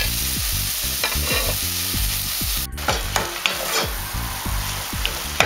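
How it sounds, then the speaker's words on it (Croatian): Onion, garlic and grated carrot sauté in a little oil for a beef medallion dish, with a constant close sizzle and repeated scraping stirs, plus a brief knock about halfway through. "I na malo ulja koje naknadno dodamo, stopirimo luk i češnjak"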